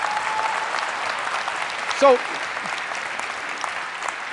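A lecture audience in a hall claps, a broad steady patter of applause that fills the room while the lecturer briefly speaks over it.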